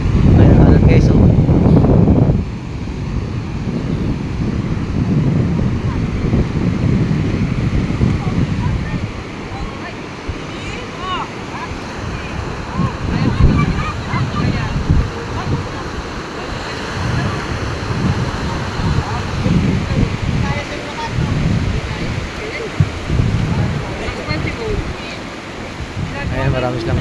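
Sea waves wash and surge around a small fishing boat, with steady wind buffeting the microphone throughout and louder swells rolling in at intervals; people talk over the water noise.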